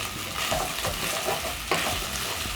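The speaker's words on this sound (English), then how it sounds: "So as the pork cooks, you stir it around." Pork for a wet fry crisping in a pan as it is stirred around, a loud, dense sizzle with scraping stir strokes cutting through, close up.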